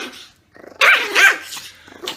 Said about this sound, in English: I come home and I pet my dog.